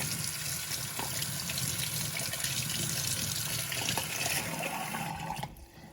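Lukewarm tap water runs steadily into a sink, a continuous close splashing hiss that cuts off near the end.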